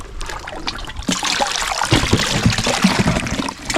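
Strong river current flowing fast, a steady rushing and trickling water wash that swells louder after the first second and continues with gurgles and splashes, close by, with no talk.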